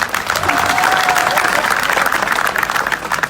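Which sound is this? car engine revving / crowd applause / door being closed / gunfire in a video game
crowd applause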